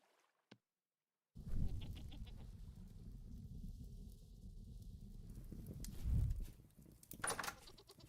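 Goats bleat in the Vintage Story video game, a few close, loud calls rising over a steady low rumbling background, the last cries coming near the end.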